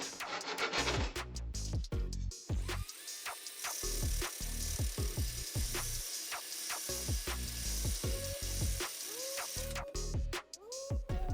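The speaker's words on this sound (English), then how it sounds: "Cut off the aluminum profile according to the previously calculated length and grind it." A power tool cuts and grinds an aluminum LED profile, its whine rising and falling in repeated short passes with brief pauses between, close and loud, with no talking.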